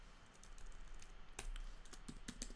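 Keys clack on a computer keyboard while text is typed for an ASP.NET Core website, a quick run of close, crisp taps with a few sharper strokes near the end over a quiet room hiss.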